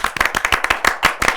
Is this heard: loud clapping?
yes